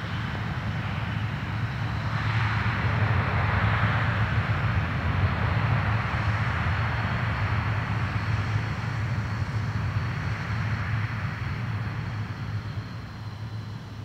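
A Singapore Airlines jet and an Alliance Airlines plane depart Perth Airport, producing a continuous broad jet engine roar that swells in the first seconds, holds steady and then eases slightly near the end, heard without talk.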